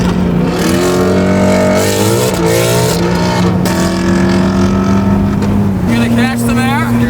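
A Ford Bronco Raptor drives around a racetrack with its engine droning steadily and loudly inside the cabin. Its pitch shifts and climbs as it accelerates through the turns, while someone talks over it.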